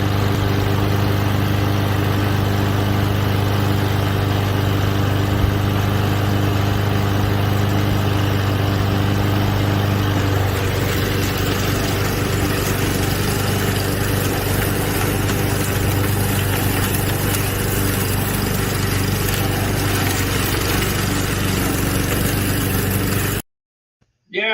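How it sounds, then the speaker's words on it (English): A 200cc lawnmower engine runs steadily and loudly while cutting grass, a constant droning motor with a shift in tone partway through, then cuts off near the end. "that lawnmower is cutting up that grass like a food processor"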